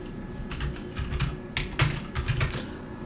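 Someone types on a computer keyboard while writing a CV in MS Word, irregular close clicks and key taps coming in quick clusters with short pauses between bursts.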